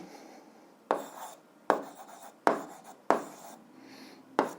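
A pen writes out an algebra solution on paper. Five distinct scratchy strokes come close and clear, separated by short pauses, in a quiet room.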